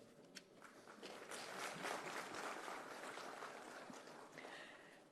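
An audience at a Punjab investment event applauds dignitaries and special guests on stage with a sustained, faint patter of clapping that swells in the middle and then tapers off.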